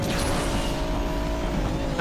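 A broken, glitchy engine drone from a car in the racing game Asphalt 8 holds at a steady hum for about two seconds, ending in a short bright burst.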